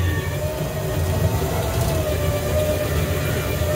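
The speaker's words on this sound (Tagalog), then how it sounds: "Chuchu, train, train!" Dinosaur park safari ride train rolling along, a steady loud rumble with a constant low drone and no distinct horn or voices.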